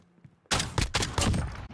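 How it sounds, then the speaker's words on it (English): Benelli shotgun fired in Modern Warfare: a sharp, loud blast cuts in after a quiet moment, followed by a couple more booming reports and rattling gunfire in quick succession. "How did the shotgun hit from that far? Bro, because it's a Benelli."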